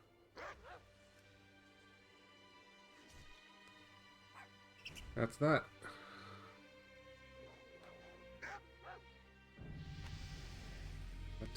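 A game dog in World of Warcraft gives a few short yips and barks with a brief whimper, clustered midway and separated by quiet stretches, while someone speaks briefly over the game's sounds.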